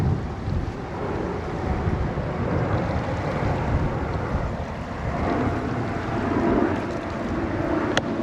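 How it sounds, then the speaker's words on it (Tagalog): Strong wind gusting over a farm plot of vegetable crops, a steady loud broadband roar that keeps pulsing throughout with no pause. "Lumalakas na naman yung hangin."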